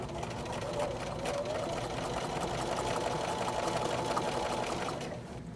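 A sewing machine runs steadily, stitching a long straight quilting line along a guide, a continuous close mechanical whir with rapid needle rhythm that eases off at the end.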